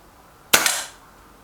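A Reximex Myth air rifle fires once, a sharp close crack with a quick secondary snap, then a short airy decay fading out within half a second, otherwise quiet.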